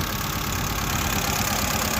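A 2016 FAW XPV car engine idles with a misfire, a steady close rumbling drone that continues evenly without a break and with no talking.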